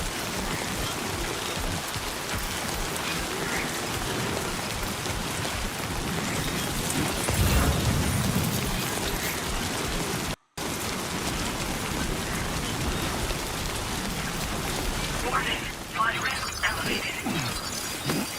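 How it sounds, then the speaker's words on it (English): Steady rain hisses across a video game scene, a broad continuous wash with a brief dropout midway and a few faint mechanical knocks near the end. "Cargo does take damage as well in the rain."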